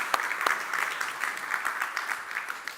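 Conference audience at a Java developer event clapping for the technical and photo staff, a steady patter of applause from a medium crowd, moderately loud with a few sharper individual claps.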